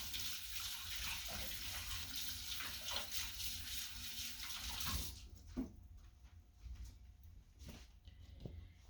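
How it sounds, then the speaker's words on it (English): Hands are washed under a running kitchen sink tap during bread making, with a steady close rush of water that cuts off partway, followed by faint drips and small clatters in a quiet room. "Let me wash my hands right quick."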